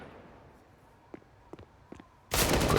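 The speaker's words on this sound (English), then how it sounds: "Quick headshot on Esatag." A headshot gunshot in Counter-Strike: Global Offensive, during a professional NAVI vs NIP match on the Nuke map. A few faint clicks and taps lead up to one sudden, loud, sharp blast near the end.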